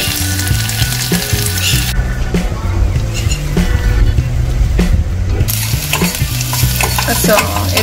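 Cumin seeds, mustard seeds, onion, urad dal and curry leaves fry and get stirred in a pan for a South Indian masala dosa. The sizzling runs steady and close with scraping stirring throughout and no talk.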